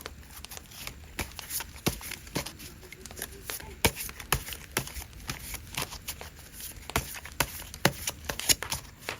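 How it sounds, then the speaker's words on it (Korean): Tarot cards shuffled by hand in a steady run of crisp riffles and sharp snaps, close and continuous, with no speech over them. "제가 카드 섞을게요."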